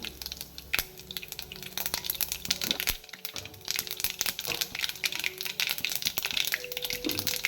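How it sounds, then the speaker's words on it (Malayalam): Mustard seeds crackle in hot sesame oil at the start of a star fruit pickle: dense, irregular close-up pops and snaps spread over a low frying hiss. "നമുക്ക് അഞ്ചാറ് കടുക് ഇട്ട് കൊടുക്കാം ഇതാണ് നല്ലെണ്ണം"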